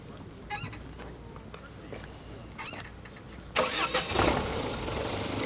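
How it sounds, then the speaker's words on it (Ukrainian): A 2008 Skoda Fabia engine cranks and catches partway through, then keeps running with a loud, rough idle, preceded by quieter background noise and faint chirps. "Послухаємо, як заводиться, працює."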